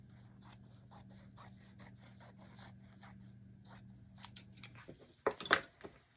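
Scissors cutting fabric strips for an embroidery hoop bunny sign: faint repeated snips and rubbing over a low hum, ending in a louder cluster of crisp cuts near the close.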